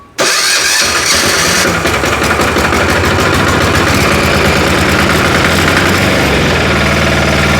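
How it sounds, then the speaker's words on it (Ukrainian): The diesel engine of a Weima WM1100AE-6 walk-behind tractor cranks in winter and catches almost immediately, then settles into a loud, rattling, steady chug that continues without pause. "Дизельний двигун вейма взимку."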